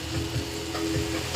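Water sizzles and bubbles in a hot pan holding roasted cashews, a brief steady hissing fry with soft stirring knocks, close and alone.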